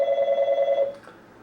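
A telephone rings at the far end of a phone line, heard through the receiver as one steady electronic ring tone about a second long that stops abruptly, with no voices.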